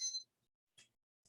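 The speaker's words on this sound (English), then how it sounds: "your timer has gone off" A tea-steeping timer goes off during a raw black tea tasting, giving three short, bright electronic beeps spaced apart, the first the longest and loudest, with silence in between.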